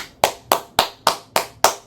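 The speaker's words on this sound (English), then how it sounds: "Applaud that man, gang" Six sharp, evenly spaced hand claps ring out in a quick, steady rhythm, close and loud, each with a short decay and nothing else between them.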